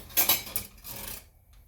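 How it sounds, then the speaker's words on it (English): A metal spatula scrapes and taps against a pan while turning pancakes, a few quick clinks followed by a short soft scraping, then quiet, close by with no talking. "I'll turn them over using my spatula."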